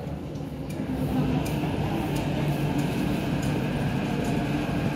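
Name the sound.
MTR train arriving at station in Hong Kong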